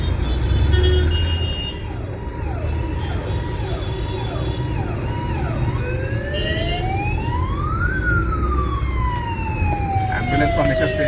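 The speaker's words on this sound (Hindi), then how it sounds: "एम्बुलेंस को हमेशा स्पेस छोड़ो।" An ambulance siren wails through city traffic, first a rapid yelp and then a long rising and falling tone that moves past. Steady road rumble sits underneath, and a car horn toots briefly.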